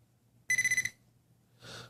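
A Garrett Pro-Pointer metal detector gives a short run of about five rapid, shrill electronic beeps, close and clear, followed by a soft breathy noise against quiet background hum.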